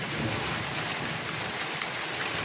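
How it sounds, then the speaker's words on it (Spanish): Steady rain falling outdoors, a dense, even hiss that holds at the same level throughout with no voices. "Ahora se ha puesto a llover, ese ruido es de la lluvia"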